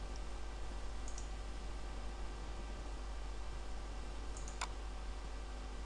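A computer mouse gives two faint, sharp right-clicks a few seconds apart over a quiet background hum.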